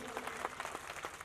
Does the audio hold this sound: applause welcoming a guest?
yes